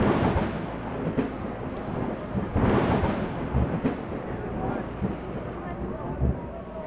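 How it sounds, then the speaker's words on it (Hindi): Heavy rain pours steadily at the Kedarnath temple, a dense broadband hiss with wind buffeting the microphone and a few louder gusts or bursts, continuous from start to finish. "बारिश एक सेकंड के लिए भी नहीं रुकी"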